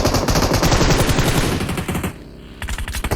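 Rapid automatic gunfire in PUBG on the Erangel map, a loud close burst of fast repeated shots that pauses briefly and then resumes.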